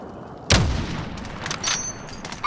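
A single sharp, loud gunshot in the first-person shooter Call of Duty: Modern Warfare, cracking up close over steady background noise, followed by faint clinks and softer battlefield sounds.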